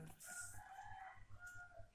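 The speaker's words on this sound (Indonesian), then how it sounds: "itu ayam tetangga" A neighbor's rooster crows once, a long drawn-out call heard at moderate distance, clear and fairly loud against a quiet room.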